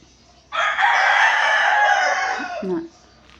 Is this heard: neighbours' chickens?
yes